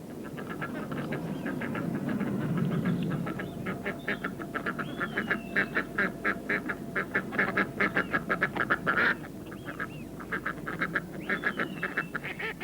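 A flock of ducks quacks in rapid, overlapping bursts at a duck decoy pond, fairly close, over a soft background murmur, the calls growing busier midway.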